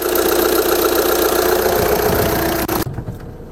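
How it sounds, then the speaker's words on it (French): An Audi A1 diesel engine idles with a steady, rumbling drone up close, then cuts off abruptly near the end, leaving near silence. "ça doit faire du bruit là par contre avec le moteur"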